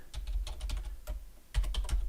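Quick bursts of keystrokes on a computer keyboard while entering code, close and crisp with uneven rhythm and a brief pause midway.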